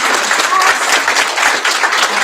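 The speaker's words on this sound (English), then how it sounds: "I'd also like ask for us to give a round of applause for our teachers" Steady, dense applause from an audience at a school board meeting, honoring the teachers, sustained and fairly loud throughout the short stretch.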